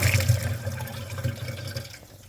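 Running water flushes dirt out of a Chevrolet Suburban heater radiator, a steady close gush of liquid with a faint hum underneath that tapers off toward the end.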